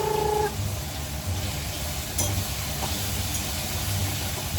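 A pressure cooker cooking rice gives off a steady steam hiss in a home kitchen, continuous and moderately loud, with faint clinks and a brief high whistle-like tone at the start.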